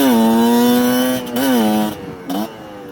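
Kayo KT250 two-stroke motorcycle engine revving alone, a loud nasal buzz rising and holding, then dropping between two short blips of the throttle.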